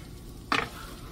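Green chorizo and potatoes frying in a pan, a steady low sizzle with one brief scrape of stirring midway.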